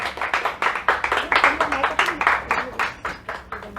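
Audience clapping at a book talk show welcoming a guest onto the stage: a steady run of close, crisp handclaps from a modest crowd, rising briefly and then thinning toward the end.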